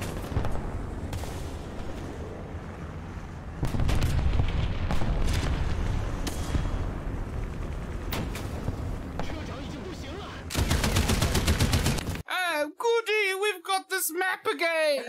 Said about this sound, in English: Artillery fire on my position